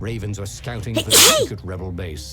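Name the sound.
sneeze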